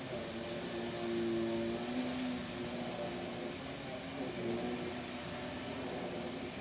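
A smart vacuum cleaner runs on carpet with a steady droning whine and airy hiss, its motor pitch wavering slightly, moderately close and fairly quiet, with no speech.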